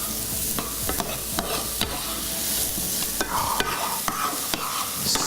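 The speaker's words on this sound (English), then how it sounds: "let's give this a nice stir round" Frying onions, black pudding and chorizo crackle and sizzle steadily in a pan while a utensil scrapes and stirs through them in repeated strokes, close and continuous.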